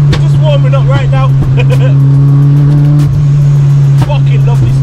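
An EK29 car engine idles loud and steady as it warms up, with occasional revs and clicks and someone talking over it.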